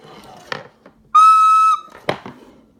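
A single short, shrill steam whistle blast, about half a second long and loud, between a couple of soft clunks and knocks.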